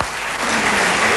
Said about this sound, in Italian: facciamogli un applauso a lui